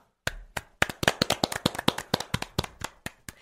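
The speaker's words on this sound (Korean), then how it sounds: "마지막 기념으로 박수 한번 쳐봤어요." A group of people claps together in a quick burst of around twenty sharp, close hand claps with a fairly steady rhythm, starting after a brief silence and tapering off at the end.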